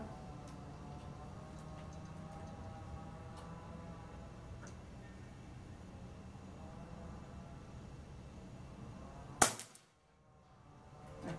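After a long stretch of quiet room hum with faint ticks, a single close, sharp crack rings out as an Air Venturi Avenger air rifle fires a Leviathan 5.5 mm pellet.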